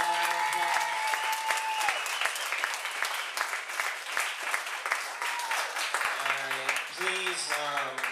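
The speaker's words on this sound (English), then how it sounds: "So, give him a round of applause." Audience at a comedy show in a small venue bursts into loud, sustained applause, dense clapping lasting the whole stretch, with voices and a few shouts or whoops rising above it near the start and end.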